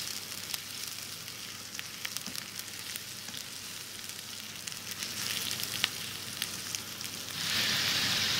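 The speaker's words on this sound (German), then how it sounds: "das Gehackte mit der kleingeschnittenen Zwiebeln und den Gewürzen vermischen und anbraten" Minced meat fries in a pan with chopped onions and spices, giving a steady close sizzle and crackle that swells louder near the end, with no talking.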